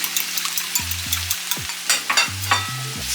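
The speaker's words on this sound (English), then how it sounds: "Listen to that crackly sound. Listen to the cabbage" Cabbage crackling in a hot pan for shrimp fried rice, a close sizzle with irregular pops and scraping stirs, a low steady hum running beneath, no speech.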